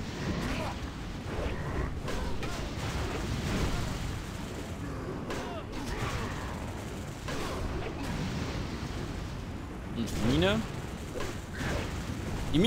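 Mines going off in World of Warcraft: The Burning Crusade, deep booming blasts and rumbling bursts mixed with game effects, with voices talking over much of it.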